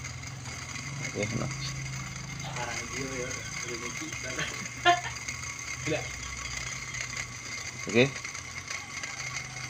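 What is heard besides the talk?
rough noisy air conditioner indoor fan motor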